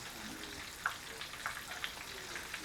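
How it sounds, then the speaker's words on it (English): Catfish fillets fry in hot oil with a steady, soft sizzle broken by a few sharp pops and crackles, heard close but fairly quiet. "Those fillets are still frying up nice."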